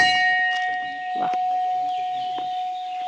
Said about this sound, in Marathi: घंटानाद.